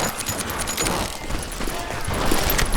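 Western gunfire from the video game Call of Juarez, a 1880 Stinking Springs shootout: a dense, noisy fusillade of shots blends with game music and effects, steady and loud throughout with a mumbled voice underneath.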